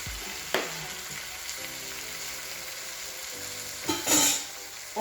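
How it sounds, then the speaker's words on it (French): Japanese curry with soy sauce being stirred in a pan gives a soft steady sizzle with gentle scraping, a clack near the start and a brief louder hissing burst toward the end. "On mélange un peu."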